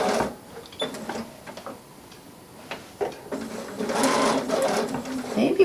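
A sewing machine top stitching a tight curve on fabric, running in short bursts with stops for pivoting and small clicks between, then a longer steady run near the end, close by.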